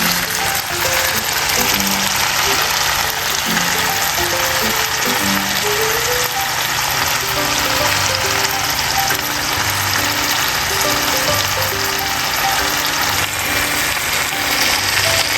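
Meat frying in a pan gives a steady, dense sizzle for the whole stretch, even and fairly loud with no talking over it.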